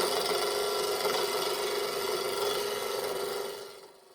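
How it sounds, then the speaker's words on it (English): Bowl gouge cutting a small scrap wood blank with wild, mixed grain as it spins on a lathe, a steady loud hissing shear that runs continuously before fading out at the end. "The little blanks had grain running every which way, so I had to round them over with my bowl gouges."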